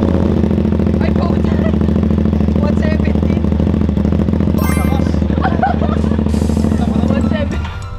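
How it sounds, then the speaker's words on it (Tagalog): A motorcycle engine is pumped hard, holding a loud, steady, throbbing drone close by while people chatter underneath, then easing off at the end. "Lamin, bubomba lang namin yung motor mo ha"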